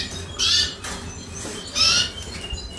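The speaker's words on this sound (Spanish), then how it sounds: "Y ahí tenemos todos los pajaritos." Caged birds in an aviary give two brief, bright squawking calls about a second apart. Soft rustling sounds between the calls, and no one is talking.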